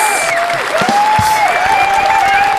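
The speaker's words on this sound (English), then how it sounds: "Give them a round of applause." Loud, close clapping from a small group, with a strong whistling or squealing tone sliding above it throughout.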